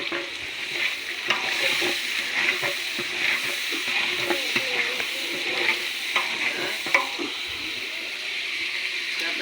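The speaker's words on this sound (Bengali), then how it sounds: "আমরা বেরেস্তা পেঁয়াজ দিয়ে দিচ্ছি, একটা বেরেস্তা হবে।" Sliced onions frying in oil for birista, a continuous bright sizzle with repeated stirring scrapes and clinks from a spatula, close and steady throughout.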